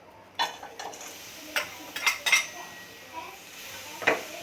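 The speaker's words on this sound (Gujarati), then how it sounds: "હવે આપણે એમાં ગોળ ઉમેરી લઈશું." A utensil clinks and scrapes against a pan as jaggery is added and stirred for peanut sing pak barfi, making scattered, fairly close metallic taps and scrapes with a low background hum.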